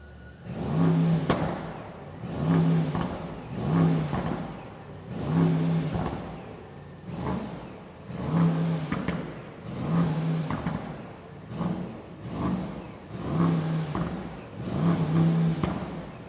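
A Brabus S930 V8 bi-turbo engine breathing through an aftermarket Brabus exhaust, heard from outside the car, revs loudly in about ten rhythmic bursts, each rising and falling, with brief pauses between them.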